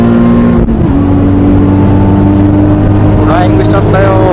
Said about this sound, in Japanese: まるで打ち合わせをしていたようにスタートを切った3台、加速が速いのはどれだ。